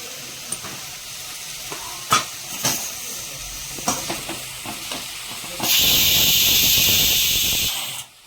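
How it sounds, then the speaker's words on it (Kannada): A pressure cooker cooking mutton in a village kitchen lets out a loud, steady steam whistle for about two seconds, preceded by light clinks and stirring sounds from nearby frying, with no one speaking. "ಈ ಕಡೆ ಮಟನ್ ಆಲ್ರೆಡಿ ವಿಸಿಲ್ ಆಗ್ತಾ ಇದೆ"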